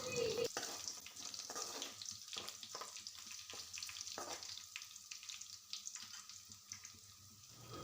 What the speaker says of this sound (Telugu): ఇప్పుడు ఇవి కూడా 2 మినిట్స్ ఫ్రై చేయండి.